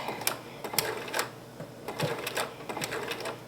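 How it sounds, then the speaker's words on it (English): A sewing machine sews a few straight stitches for a satin stitch applique, tapping in quick irregular clicks close by with a faint background hum. "We're going to go back to the straight stitch and we're going to sew a few stitches"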